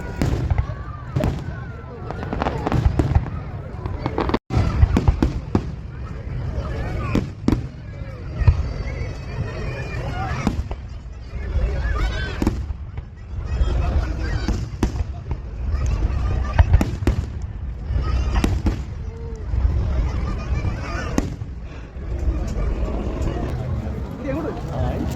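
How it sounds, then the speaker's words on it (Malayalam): A festival fireworks display in Muscat, Oman, with repeated sharp bangs and crackling bursts in an irregular, rapid barrage over a steady crowd murmur, loud and continuous across the whole stretch. "ഒരു ഡൈനാമിക് ഡിസ്പ്ലേയും പിന്നെ ഒരു നല്ലൊരു കലാശക്കൊട്ടൊക്കെ ആയിട്ടുള്ള അടിപൊളി ഒരു വെടിക്കെട്ട്"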